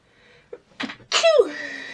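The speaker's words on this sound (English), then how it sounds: "Oh, that really is making me want to sneeze." A single person sneezes close by after a couple of short inward breaths, ending in a sharp, loud burst with a trailing exhale.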